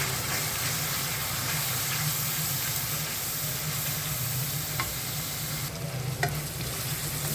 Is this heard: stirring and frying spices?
yes